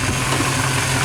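A 1997 Chevrolet OBS pickup's engine idles steadily close by, a continuous low rumble with vibration and no other sounds.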